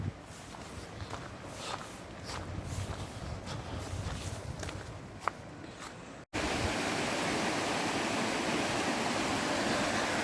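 Steady rushing water pours over a weir along a footpath past industrial premises, a broad continuous roar that jumps louder partway through as the flow comes nearer.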